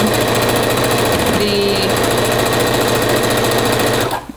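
A sewing machine stitching a half-inch seam around the edge of a rag quilt, running in a loud, fast, steady mechanical rattle that stops abruptly at the end.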